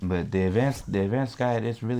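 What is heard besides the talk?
None of the usual background noises is heard.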